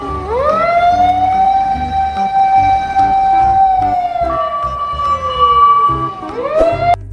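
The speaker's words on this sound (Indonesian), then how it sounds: "Dan yang terakhir, ada mobil pemadam kebakaran." A loud, close electronic siren wails with a long rising and falling tone, then restarts sharply near the end, like a toy fire truck's siren.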